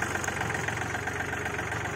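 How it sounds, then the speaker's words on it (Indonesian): Yanmar FE 393 tractor engine running in a field while tilling and forming beds, a continuous loud knocking diesel drone with steady rhythmic pulsing, no talk over it. "menggunakan mesin traktor ini Yanmar ya. FE 393"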